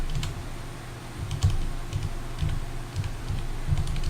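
Someone types on a computer keyboard: quick, irregular keystrokes clatter up close in short bursts with brief pauses.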